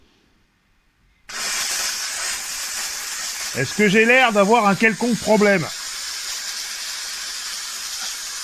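A Dupray Neat steam cleaner, switched on at full steam, lets out a loud, steady hiss that starts abruptly and runs continuously, while someone speaks over it partway through.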